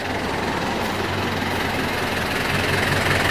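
A small engine in a Mini Mack big rig model truck runs steadily close by, a continuous buzzing rattle that stays even throughout.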